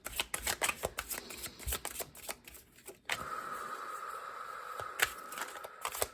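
Tarot cards being shuffled by hand, a rapid riffling patter of card edges in quick bursts, then a steadier continuous shuffling hiss, close and fairly loud with no talk.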